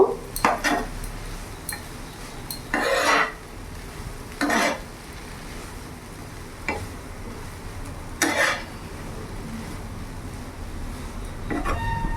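Veg chowmein with Maggi masala being turned over in a pan on a medium gas flame, with a spatula scraping and clattering against the metal in several separate bursts between quieter frying stretches, close and with no talking.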